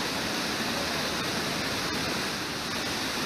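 Brooks Falls waterfall, a steady broadband rush of falling water that stays constant and fairly loud throughout, with no other sounds standing out.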